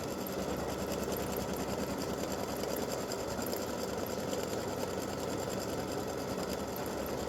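An embroidery machine stitches a freestanding lace awareness ribbon, giving a steady, fast, even mechanical whirr and rapid needle clatter that runs continuously and close up, with no talking.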